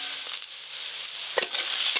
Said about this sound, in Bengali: আলু কুমড়ো ভালো করে ভাজা ভাজা হয়ে গেছে